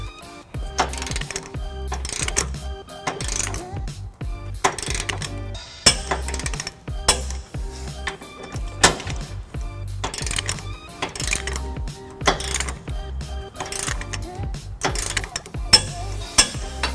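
Ratchet fitted with a 19mm socket torquing trailer hitch bolts on a 2005 Nissan Titan, giving repeated metallic clicking and clanking bursts in close, steady strokes with short pauses, with no talk over it.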